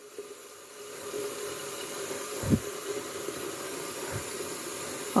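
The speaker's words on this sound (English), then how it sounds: "Fill it full of water." A large pot filling with water from a kitchen tap for cooking cabbage, a steady close hiss and splash of running water with a couple of brief knocks.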